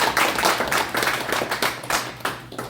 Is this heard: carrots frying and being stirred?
no